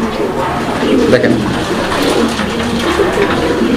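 Giribaz pigeons cooing in a loft, a low steady murmur of coos under background noise while someone speaks briefly.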